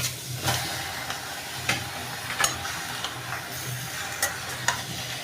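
Chunks of beef for an Eid-special Chittagong-style dish dropped into a hot pot, giving a steady, moderate sizzle with occasional soft clicks and pops as the meat settles and shifts.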